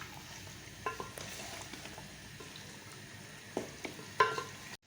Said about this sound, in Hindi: मैं इसमें अपना चिकन डाल देती हूँ। चिकन को अच्छी तरह फ्राई करेंगे इसमें।